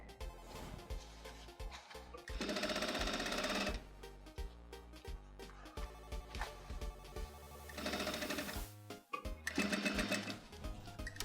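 A sewing machine stitches a folded jeans hem in bursts, with a short back-stitch to secure the seam, running loud and close in two main stretches with pauses between.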